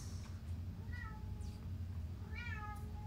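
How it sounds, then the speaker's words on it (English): A cat meows a few times on a patio outside, faint and somewhat distant, over a steady low hum. "That's my very annoying cat out on the patio that you guys are hearing."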